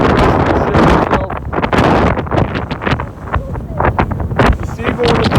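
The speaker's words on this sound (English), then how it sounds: "We just got a really strong gust" A strong wind gust batters the microphone on a beach, a loud continuous roar and buffeting that barely lets up.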